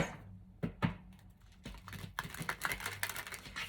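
Tarot cards being shuffled in quick rattling bursts of soft clicks, a few separate flicks first, then a denser rapid riffle.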